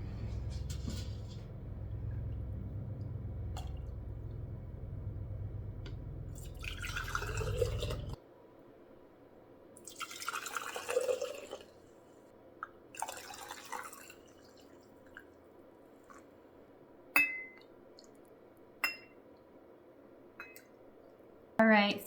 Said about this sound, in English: I'm gonna finish filling these 5 jars